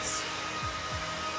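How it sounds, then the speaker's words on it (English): A hair dryer runs close by with a steady, unbroken whooshing hum and a faint low motor drone. "Plug in the hairdryer. All right. Hairdryer's working."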